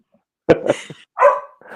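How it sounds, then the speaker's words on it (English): A guard dog barks loudly and close, giving a few separate barks and yelps with short silent gaps between them. "My dog's barking in the background."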